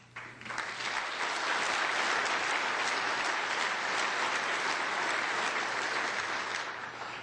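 Audience at a Rotary luncheon in Seattle breaks into applause for the mayor's remarks, a full, steady burst of many clapping hands that swells quickly and stays loud throughout.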